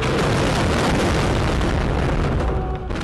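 Shelling over Stepanakert, the capital of Karabakh, during fighting between Azerbaijani and Armenian forces, heard as a loud, continuous roaring boom that fills the whole clip and eases slightly near the end.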